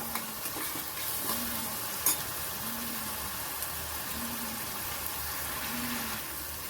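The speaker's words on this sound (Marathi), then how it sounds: "आता याच्यातच आपल्याला टोमॅटो घालायचा आहे. आणि छान परतून घ्यायचं आपल्याला." Tomatoes sauté in a pan with onion, making a constant hissing sizzle like light rain, with faint occasional scrapes of stirring and no speech.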